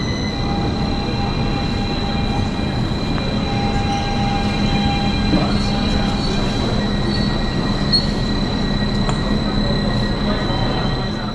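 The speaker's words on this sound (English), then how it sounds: "here we can see my train arriving" A Stadler KISS regional train arriving at Lübeck main station rumbles steadily nearby with high, sustained wheel squeals ringing over the noise, continuous throughout without talk.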